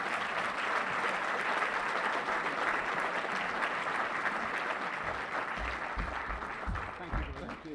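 Audience applause at a book talk welcoming a speaker, a steady dense wash of clapping from a large crowd that carries on evenly before easing slightly toward the end.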